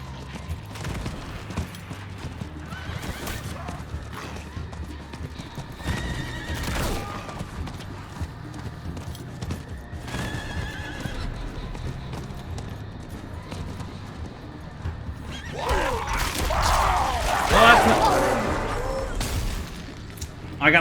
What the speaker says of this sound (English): just hop on the horse